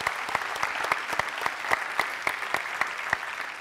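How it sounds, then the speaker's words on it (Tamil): A studio audience on a Tamil children's TV game show applauds. The claps fall into a loose, regular rhythm with sharp individual hits standing out from the steady wash. "இதே கைத்தட்டு தான்."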